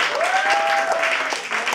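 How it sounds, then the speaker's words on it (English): Brief burst of crowd applause for a karaoke singer at a village karaoke night, steady clapping with a faint whistle running through it. "a round of applause for my buddy Bob here."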